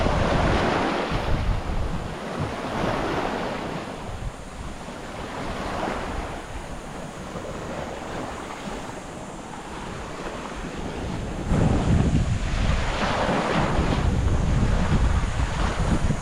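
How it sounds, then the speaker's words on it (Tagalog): Strong wind roars and buffets the microphone in gusts, with a steady rush like surf underneath and no voices. "Sobrang lakas ng hangin"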